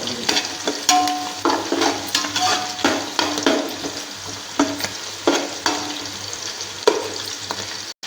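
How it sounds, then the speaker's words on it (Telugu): Whole cloves, cinnamon, bay leaf and cardamom fry in hot oil in a pan, giving a steady sizzle with repeated scraping stirs and light clinks of a spoon against the pan, close and fairly loud. "లవంగాలు దాల్చిన చెక్క బిర్యానీ ఆకు యాలకులు మొత్తం రెండు నిమిషాల పాటు యాగనిద్దాం"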